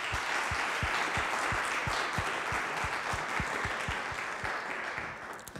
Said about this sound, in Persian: میخوام که اینجا خودتون برای خودتون برای کشیشان برای تیم مدیا دست بزنید و تشویقشون بکنید